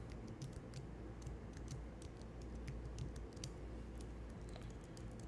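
Code being typed on a computer keyboard, a steady patter of light key clicks in irregular quick bursts, faint and close with no voice.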